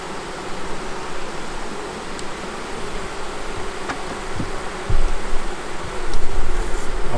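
Honeybees at a hive during queen introduction, a dense steady buzzing hum, close and continuous, that grows slightly louder toward the end with a few scattered taps.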